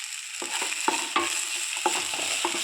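A spoon stirs a spicy brinjal stir-fry in a pan over a low flame, giving a steady sizzle marked by repeated scraping strokes about every half second, close and clear, with no speech.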